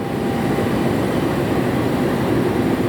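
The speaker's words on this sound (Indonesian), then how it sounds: "giliran kereta api Senja Utama Solo yang hadir masuk di jalur 1 stasiun Cirebon." Senja Utama Solo passenger train pulling into track 1 at Cirebon station in Indonesia, a steady, loud, continuous low rumble of wheels and carriages rolling close by, with no voices.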